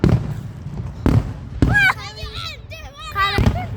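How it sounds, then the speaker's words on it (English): Fireworks bursting at a nighttime show, with several sharp booms near the start and middle while children's voices chatter and squeal loudly over the later part. "Bro, imagine if one of the fireworks they shaped the form of Mickey Mouse"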